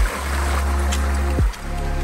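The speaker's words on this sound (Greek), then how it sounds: "Στο σημείο που βρισκόμαστε έχουμε φτάσει στο ρέμα." A mountain stream in Attica flows steadily on the way up to the Rapentosa waterfall, a close, continuous rushing and gurgling of water that carries through the whole clip with no one speaking.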